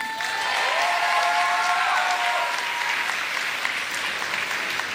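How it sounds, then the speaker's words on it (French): Audience applauding participants between entries at a juried competition, a dense, steady wash of many hands clapping close by for the full length, with a thin sustained tone sliding through it early on. "on va les applaudir très fort"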